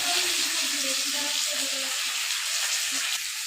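Shidol and potatoes frying with spices in a pan, a bright continuous sizzle close up with faint clinks and stirring underneath, no talk.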